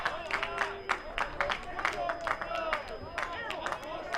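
Baseball crowd at an RSU versus Colorado Christian game reacting to a full-count pitch with sustained clapping and murmuring, and a commentator talking over it.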